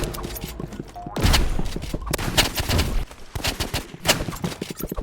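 Rapid pistol shots in a video game, sharp cracks in quick irregular bursts, close and loud, with brief gaps between volleys and faint voices now and then.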